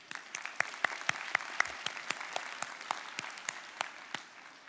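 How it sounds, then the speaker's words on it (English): Applause from a keynote audience at a student academic competition in The Hague, a handful of sharp individual claps standing out over softer scattered clapping that thins toward the end. "Give yourselves a round of applause."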